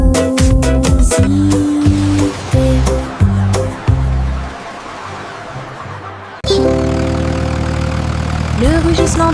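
A small cartoon tractor engine chugs and idles in a children's nursery-rhyme song, its loud, steady, rumbling tone set against bright tuneful music.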